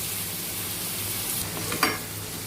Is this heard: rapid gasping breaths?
no